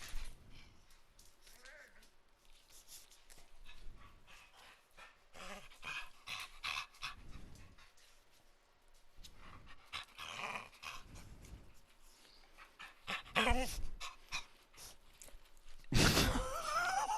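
A dog pants and growls nearby in bursts, with quiet gaps between, a loud close snort near the end and a person talking at times.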